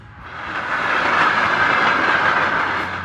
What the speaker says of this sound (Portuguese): quase é pega por um trem em alta velocidade